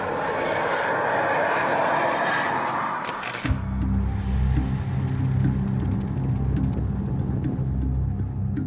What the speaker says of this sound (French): Exercice terminé, le Rafale retourne à sa permanence.